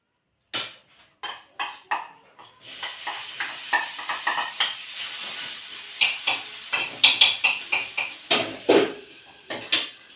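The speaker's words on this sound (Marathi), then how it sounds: "चला थोडीशी गरम करते भाजीला आता मी" A spoon scraping and clanking against a metal pan as potato bhaji is stirred and reheated, steady repeated strokes close by with a faint sizzle underneath.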